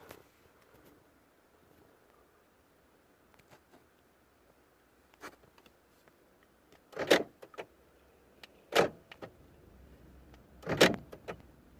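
Electric door lock actuators on a BMW 320d E90 whir and clunk three times in short bursts, separated by quiet gaps, close up with a faint background hum.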